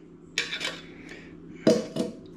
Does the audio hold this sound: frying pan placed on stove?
yes